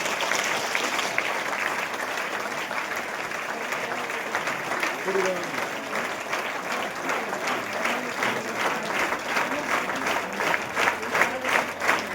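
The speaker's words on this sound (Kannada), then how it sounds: "ಜೋರ್ಲಿ ಚಪ್ಪಾಳೆ ಸೆಕೆಂಡ್ ಮಾಡ್ಕೊಂಡು ಎಲ್ಲರೂ ಜೋರ್ಲಿ" A crowd at a felicitation ceremony honouring farmer leaders in Bagalkot district claps loudly and steadily, with a rhythmic beat emerging toward the end. A voice speaks over the applause.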